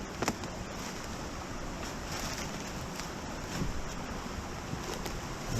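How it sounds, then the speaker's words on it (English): Creek water runs steadily over rocks in the Richland Creek Wilderness, a continuous broadband rush at moderate level with no voices. "At least there is water running."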